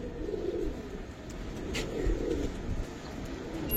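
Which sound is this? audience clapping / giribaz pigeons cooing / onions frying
giribaz pigeons cooing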